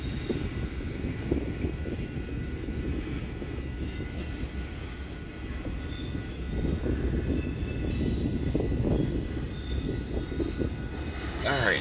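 A westbound double-stack freight train rolls steadily past at moderate distance, a continuous rumble of wagons with faint wheel squeal, running without a break and with no talk.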